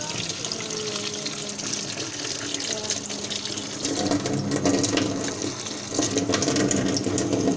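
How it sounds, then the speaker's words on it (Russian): Water from a tap runs steadily to rinse slime that was heated in a microwave, a continuous close splashing flow with some louder surges toward the end. "Сейчас я его водой промою."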